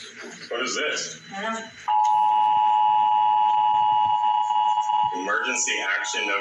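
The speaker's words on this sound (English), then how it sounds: "This is an emergency action notification." An emergency action notification alert tone: one loud, steady electronic tone holding for about three seconds, with voices talking just before and after it.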